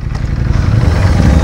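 Ducati V4S motorcycle engine running close by, a steady low rumbling drone with a faint rising note toward the end, heard alone.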